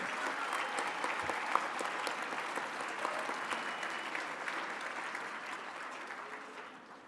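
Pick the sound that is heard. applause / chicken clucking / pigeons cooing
applause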